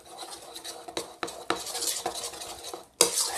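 Glue and shaving foam are stirred together for borax-free slime, giving wet squelching scrapes and utensil clicks against a bowl in uneven strokes, close and fairly quiet, with no voices.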